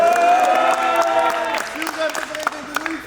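A crowd at a basketball dunk contest cheers loudly, with whoops and shouts over a dense roar that holds strong at first and then thins into scattered yells and voices.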